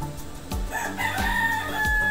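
A rooster crows once nearby, a clear drawn-out call over a low background hum.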